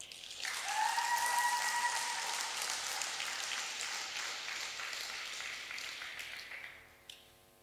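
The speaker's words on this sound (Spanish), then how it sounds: "Dar un aplauso al Rey." A church congregation breaks into loud, sustained applause during a sermon, a thick roar of many hands with a brief held vocal tone near the start, tapering off and fading out after about seven seconds.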